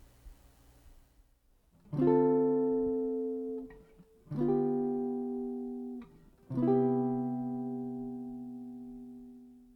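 A jazz minor seventh chord in root position is struck three times on piano, each ringing out and slowly decaying before the next.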